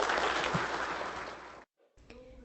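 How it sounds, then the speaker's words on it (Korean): Applause from police officers and two police chiefs at a public event, a dense burst of clapping that fades and cuts off. "두 경찰서장님과 경찰관들이 이렇게 박수 한번 크게 보내주셨습니다."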